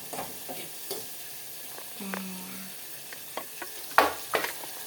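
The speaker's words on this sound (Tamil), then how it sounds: "இந்த மண்டையை நல்லா ஃப்ரை பண்ணுங்க பாப்போம்" Chicken head pieces frying in a pan for Tamil-style chicken kulambu, a soft steady sizzle with scattered stirring clatters and a brief clunk near the middle, a sharper scrape toward the end, no talking.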